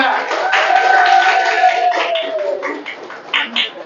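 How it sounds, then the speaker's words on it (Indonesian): Clapping in a classroom for a student group, brisk and close, with children's voices calling out over it and fading toward the end. "Tepuk tangan untuk kelompok 2"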